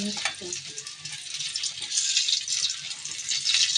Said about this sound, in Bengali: পুরিগুলো ভেজে নিচ্ছি যেহেতু ফ্রোজেন ছিল